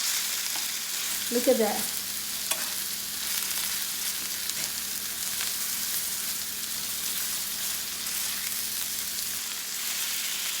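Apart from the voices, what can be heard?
beef searing in a pan for fajitas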